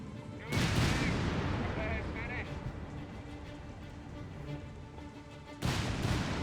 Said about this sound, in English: Quiet here, besides the firing of the guns